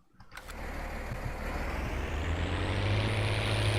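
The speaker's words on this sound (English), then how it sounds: "It is quite a loud tractor." A loud MB Trac tractor engine in a farming video game starts up and settles into a steady, heavy drone that keeps building slightly, heard alone.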